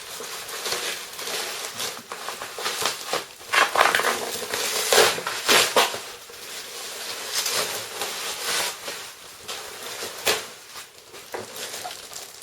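Crinkling and crackling of a Creative Sound Blaster Z sound card's retail packaging being handled and torn open close by, with irregular rustles and sharp scrunches, no speech.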